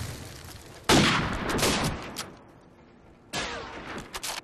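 Gunshots in a friendly one-on-one video game match: two loud, sharp bursts of fire with a gap between them, and a quieter stretch in the middle where the sound fades.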